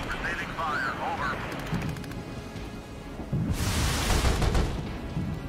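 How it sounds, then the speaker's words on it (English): Missile barrage in the military strategy video game Regiments, heavy rumbling explosive fire swelling into a loud broadband roar midway, with voices talking over the earlier part. "Missile barrage in there."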